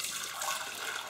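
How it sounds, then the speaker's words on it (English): Water pours steadily from a pan into a larger pan in a kitchen, giving a continuous soft splashing rush that lasts about a second. "Grab that big pan there, and I'm just going to pour all that water in there."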